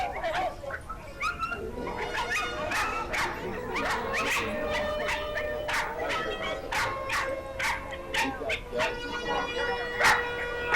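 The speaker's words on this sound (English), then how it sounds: "I think the trumpet kind of excited the dogs" Several dogs bark, yip and whimper excitedly after a trumpet plays at a Chautauqua community show, a continuous overlapping chorus of sharp high yelps with people talking in the background.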